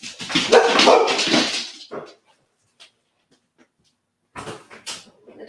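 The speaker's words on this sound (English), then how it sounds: "The dogs again." Several dogs bark indoors near a kitchen, a loud burst of overlapping barks and yips that fades, followed by a pause and a few more short barks at the end.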